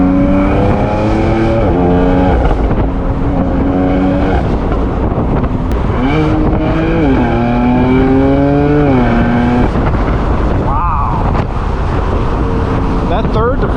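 A tuned 1000 hp BMW M4 F83 convertible with a loud exhaust revs hard through rapid gear changes, rising engine tones stepping up with each near-instant shift, close and roaring under wind buffeting and occasional talk.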